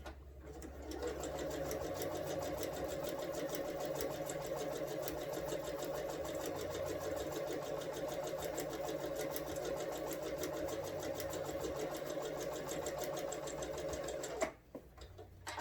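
A sewing machine stitching fabric strips onto paper for string piecing runs in one steady, fast, even whir for about fourteen seconds, close and alone, then stops abruptly.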